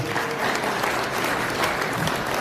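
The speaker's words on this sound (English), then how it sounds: "Give him a round of applause." Steady audience applause at a talk on self-defense and the legal system, dense even clapping filling the whole stretch at moderate loudness with no clear voice over it.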